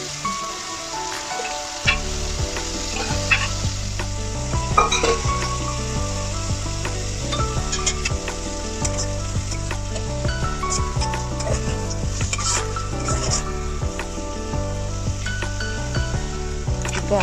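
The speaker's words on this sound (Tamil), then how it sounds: "இப்போ அதோட வேக வச்ச மட்டனை சேர்த்து லேசாக வதக்கிக்கலாம்." Boiled mutton sautéed with ginger garlic paste, village style: loud, dense crackling sizzle with rapid popping and a steady low rumble, close up and continuous, no talking.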